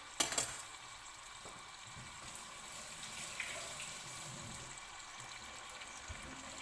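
Chicken pieces sear in a pot for a one-pot chicken chasseur, a short sharp clatter followed by a steady, soft sizzle that carries on quietly.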